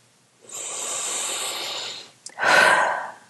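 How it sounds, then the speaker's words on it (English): A deep breath: a long, steady inhale lasting about a second and a half, a brief pause, then a louder, forceful exhale close to the microphone, with no talk. "Big deep breath."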